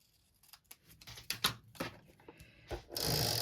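Scissors snip through a paper Union Jack piece in a quick run of close, crisp cuts, ending in a louder rustle of paper, with no voices.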